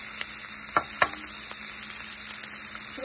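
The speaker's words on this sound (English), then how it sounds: "We are going to fry our onions." Onions frying in a pan for a low-carb kelp noodle stir-fry, a steady close sizzle throughout with a few soft stirring clicks, no talking.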